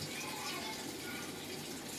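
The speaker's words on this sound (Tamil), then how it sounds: "தண்ணி வருது பார்த்தீங்களா, இந்த அளவுக்கு ஃபோர்ஸ் வருது." Water rushes forcefully into a Samsung top load washing machine as it fills, a steady, close, unbroken gush with no talking.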